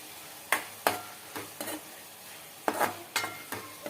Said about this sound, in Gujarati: એની ઉપર આપણે થોડુંક ધાણા જીરું પાવડર પણ નાખી દેશું અને તેને પણ સારી રીતે મિક્સ કરી દેશું